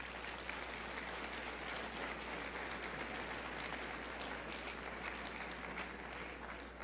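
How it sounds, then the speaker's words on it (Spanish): Congregation applauding during a church service, a continuous, fairly faint wash of clapping from a crowd heard at a distance over a low steady hum, without any break for the whole stretch. "Dale un aplauso al Rey, por favor."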